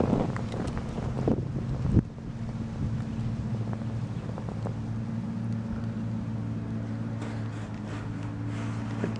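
Steady, low rumbling wind gusts buffet the microphone, with a sharper gust and brief noise burst early on, continuing as constant blustery roar.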